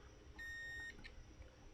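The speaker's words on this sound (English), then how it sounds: "you might hear it beep for a second" A multimeter on continuity mode gives a single brief steady beep, about half a second long, while its probes are checked leg to leg on the amplifier components of a Phoenix Gold Z10001 car amp, heard over a low background hum.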